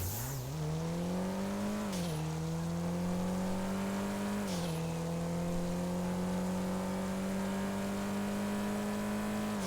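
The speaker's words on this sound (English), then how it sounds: "This is the Benefactor Panto I've affectionately nicknamed the Grape." Small Benefactor Panto city car in GTA Online, its engine droning steadily with two brief throttle dips and pitch shifts before settling into a constant, loud hum.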